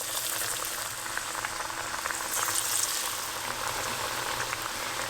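Chickpea falafel fry in hot oil with a steady, close bubbling hiss that holds at an even level throughout, with no voices.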